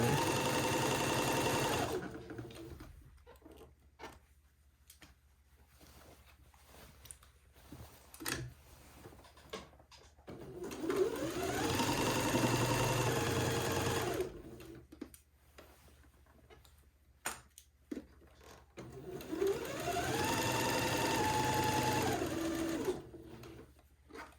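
A sewing machine stitches across a seam in corduroy fabric, three bursts of fast rhythmic mechanical whirring and ticking, with quiet pauses and small clicks between runs.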